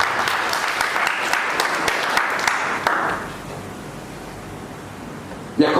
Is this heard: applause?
yes